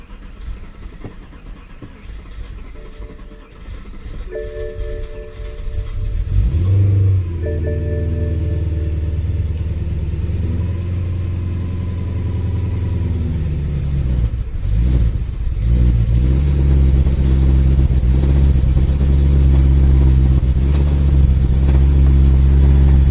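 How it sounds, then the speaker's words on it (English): A BMW F80 M3 running on E85 cold-starts on a snowy day: a loud starter catch and sharp rev flare settle into a deep, steady idle with a couple of further blips, close and alone. "this is actually the first like cold start"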